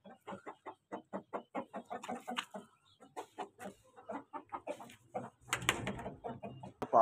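A hen and about a hundred chicks clucking and peeping in rapid, repeated short calls, fairly close, with a busier flurry of bird noise near the end.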